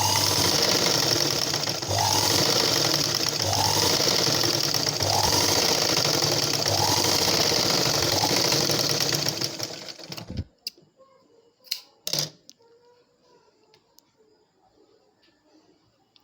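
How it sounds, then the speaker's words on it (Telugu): A sewing machine stitches a blouse edge with a loud, steady whirring run and faint rhythmic cycling for about ten seconds, then stops, leaving a few soft clicks and handling noises. "ఇప్పుడు మనం ఒక సైడ్ అంచు కుట్టుకోవాలి."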